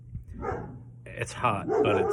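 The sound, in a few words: dog barking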